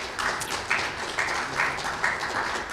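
Audience at a Ross University School of Veterinary Medicine event clapping in a short, moderate burst of applause, a scattered patter of hands heard from within the room.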